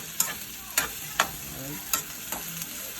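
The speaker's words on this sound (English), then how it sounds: "give it a few minutes to kind of saute" Ingredients sauté in a hot pan, a steady sizzle broken by about six sharp scraping strokes of a utensil stirring at irregular intervals, close and clear with no talking.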